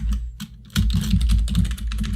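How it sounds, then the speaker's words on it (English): Fingers type rapidly on a computer keyboard during a podcast session, a close, busy clatter of keystrokes after a brief pause near the start, with no voices. "Typing some shit here while I podcast."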